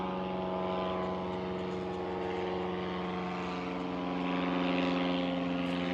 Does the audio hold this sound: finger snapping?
no